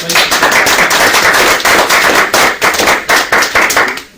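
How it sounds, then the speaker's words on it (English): A hypnosis seminar audience bursts into loud, dense applause, many hands clapping at once in a close, continuous roar that drops away abruptly at the end. "Big round of applause for Anna."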